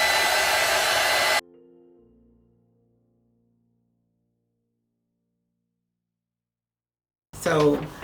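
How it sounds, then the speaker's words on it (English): A craft heat dryer blows a loud, steady stream of air onto textured wall art for about a second and a half, then cuts off and winds down. A short stretch of silence follows, and then a voice briefly speaks. "I'm going to hit this with my craft dryer and make sure that it's really dry."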